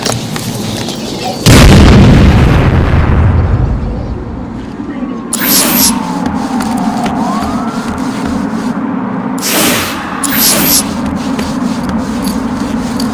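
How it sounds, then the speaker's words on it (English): A grenade goes off in the Batman: Arkham City video game with one loud, sudden blast and a rumbling tail, followed later by more sharp bursts and game noise. "Grenade!"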